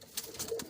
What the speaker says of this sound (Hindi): ये कबूतर देख ले